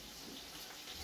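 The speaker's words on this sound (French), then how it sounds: "je me rince les mains" Hands being rinsed under a running kitchen tap, a steady close stream of water splashing for about a second with no talk over it.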